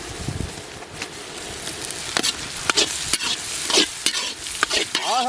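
Ginger garlic paste sizzles and fries in a pan while a utensil stirs it repeatedly with sharp scraping strokes, heard close over steady frying noise for a village mussel fry recipe.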